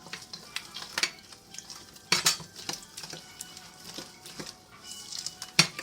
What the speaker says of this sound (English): Keep on mixing.